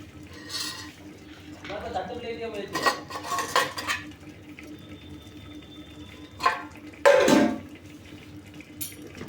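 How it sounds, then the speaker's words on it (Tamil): Pots and utensils clank in a kitchen while water is poured into a cooking pot for drumstick leaf soup, running and splashing, with a few sharp metallic knocks between quieter stretches. "கொஞ்சம் தண்ணி ஊற்றுறோம்"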